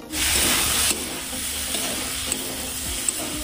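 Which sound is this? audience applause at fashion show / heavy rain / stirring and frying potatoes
stirring and frying potatoes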